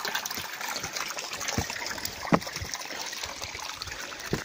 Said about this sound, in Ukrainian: Я ось хочу показати, як тут звідусіль просто, скільки тут води